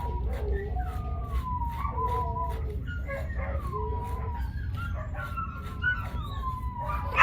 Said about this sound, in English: Everybody's howling.